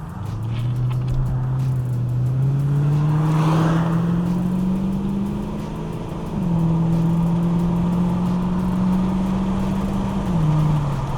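A 22-year-old Lexus with a 2UZ V8 engine driving on the road, a smooth steady engine drone that climbs through the gears with two brief shift dips, heard from inside the car.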